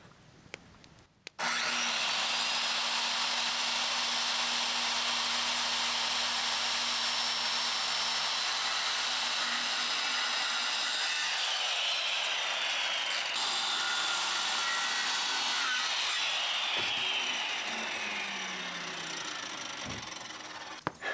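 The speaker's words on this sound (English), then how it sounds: "I ended up cutting all of those braces, 45-degree ends on each end" Power saw cutting 45-degree ends on wooden braces for a pavilion structure, a loud steady whine and rasp running continuously for most of the stretch before tapering off near the end.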